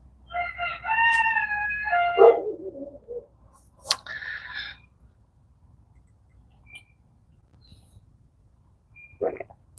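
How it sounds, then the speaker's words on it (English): A rooster fitted with a no-crow collar gives a strained, choked-sounding crow of a few seconds, followed by a couple of brief clucks and one short call later, close by in a quiet backyard. "You hear the chicken? Sounds like he's being choked."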